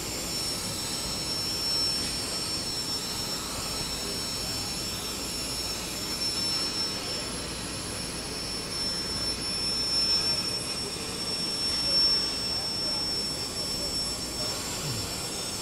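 A Peddinghaus plasma torch cutting machine with a downdraft air-cleaning plenum gives a steady, dense, roaring hiss with a thin high whine running through it, continuous and fairly distant.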